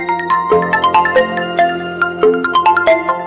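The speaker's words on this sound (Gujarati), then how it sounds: "હવે પછી તમારા ફોનમાં કોઈ વ્યક્તિનો કોલ આવે છે તો ફોન ઓટોમેટિક એનું નામ બોલી અને બતાવશે" A melodic phone ringtone announcing an incoming call, bright synthesized notes playing a quick repeating tune, loud and close with no talking over it.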